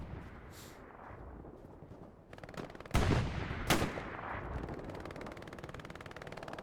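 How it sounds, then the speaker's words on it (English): Machine gun fire in the WWII shooter Hell Let Loose on the Tobruk desert map, with two loud sharp blasts in the middle over constant rattling battlefield noise. "He hears that MG, surely,"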